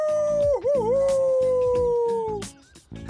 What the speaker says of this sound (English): With our little wolf puppy howling free and in the wild.